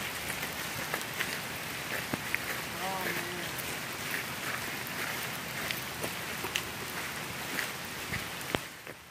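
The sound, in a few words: rain falling during a hike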